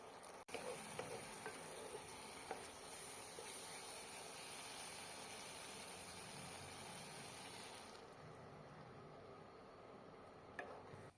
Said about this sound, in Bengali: সব কিছুর সাথে মশলাটা ভালোভাবে মিশিয়ে নেব আর কষিয়ে নেব যতক্ষণ না মশলা থেকে তেল রিলিজ হয়।